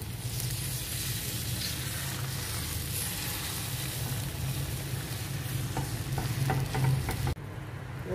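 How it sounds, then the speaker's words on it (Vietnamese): Beaten chicken egg fries thin in a pan like a crepe, giving a continuous close sizzle with faint stirring and scraping, which cuts off abruptly near the end. "Mình cho vào chảo mình chiên luôn nha."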